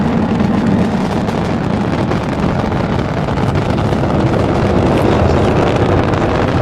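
Space Shuttle Atlantis main engines during the STS-106 launch from Complex 39B, a steady, dense, rumbling roar that holds at constant loudness throughout.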